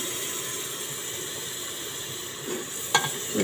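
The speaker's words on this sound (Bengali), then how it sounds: "মরিচ, পেঁয়াজ ও আদা রসুন বাটা দিয়ে দিচ্ছি অল্প পরিমাণে।" Chili, onion and ginger-garlic paste frying in a pan give a steady close sizzle and hiss, with a brief stir or clatter near the end.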